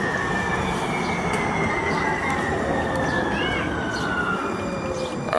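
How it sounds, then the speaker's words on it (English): A Metro Transit train rolls past, with a loud continuous roar of wheels on rail and high drawn-out squeals from the wheels sliding in pitch throughout. "I used to ride that train right there."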